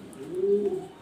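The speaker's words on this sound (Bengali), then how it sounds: "ব্ল্যাক কালার ড্যানিশ কবুতর" A single soft, low coo from black Danish exhibition pigeons, close by in a loft, one smooth call of about half a second over quiet background.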